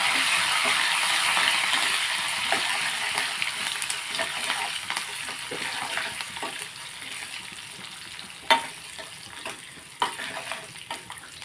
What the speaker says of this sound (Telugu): ఇప్పుడు మనం చారు కూడా తాలింపు పెట్టేసుకుందాం